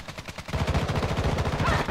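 Rapid shotgun and automatic gunfire in the video game Call of Duty, a dense string of repeated loud blasts that starts midway and keeps going.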